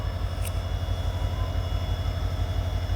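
Mangaluru–Bengaluru express train standing at a station before departure, with a steady low engine rumble and hum throughout, a constant loud idling drone and a brief faint high chirp.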